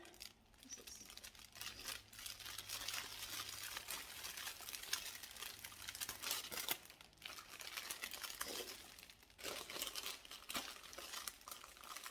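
Adhesive tape pulled, torn and pressed onto the sides of a paper Easter basket made from a coloring book: steady close crinkling and rustling, with brief tearing bursts and a voice talking at times.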